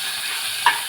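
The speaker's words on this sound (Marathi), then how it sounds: "कढीपत्ता, मिरची, थोडं हिंग हे थोडं परतून घेऊया." Curry leaves, green chilli and asafoetida sizzling in a tadka for Marathi curd rice, a steady hiss with one brief clack of a spoon near the end.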